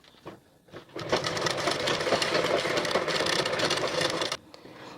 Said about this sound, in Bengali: এবার আমি সেলাই করব